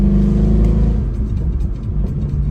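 A Mercedes W204 C63 in Sport Plus mode accelerates hard, its deep engine note rumbling loud and steady close by for the whole stretch, with no talk over it.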